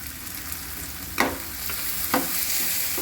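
Onion and tomato sauté in a pan with turmeric and asafoetida for a Maharashtrian chana bhaji. A close, continuous sizzle fills the pan, with two sharper spatula scrapes partway through.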